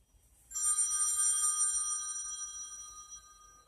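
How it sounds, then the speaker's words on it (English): A telephone bell rings in a quiet room, its bright layered tone starting abruptly and sustaining steadily before slowly fading, with no voices over it. "Now I hears the phone ringing."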